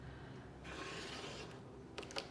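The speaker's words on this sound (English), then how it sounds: "I'm giving that a good burnish along the spine" A tool burnishes along the spine of a handmade paper mini album, giving a close, dry rubbing scrape that swells for about a second and is followed by a few small taps and clicks.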